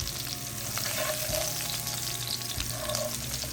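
Lobster frying in plenty of oil in a pan, a steady close crackling sizzle with soft stirring and scraping movements throughout.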